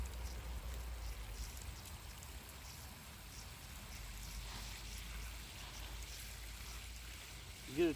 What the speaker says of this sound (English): We'll give it a good watering.